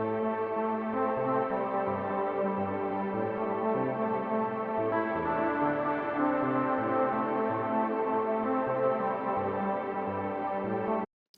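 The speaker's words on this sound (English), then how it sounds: "It's just cool that it adds this small ambient sound in the background." A frozen ambient pad from a plugin effect layered beneath the original melody, sustained tones shifting chords over a steady soft wash for about eleven seconds, then cutting off abruptly.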